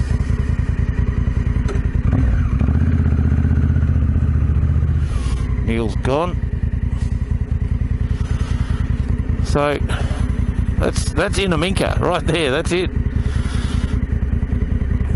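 Big KTM motorcycles idle in the desert with a steady low engine rumble throughout, joined by short rising revs and gear clatter partway through, while people talk nearby over the running engines.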